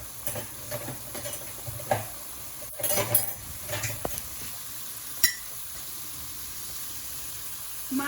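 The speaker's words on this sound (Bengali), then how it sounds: "সিমগুলো আর মূলাগুলো কষিয়ে নেব।" Beans and radish being sautéed in a pan for a fish curry, with a faint steady sizzle and scattered soft clinks and scrapes of stirring, moderately close, no talking.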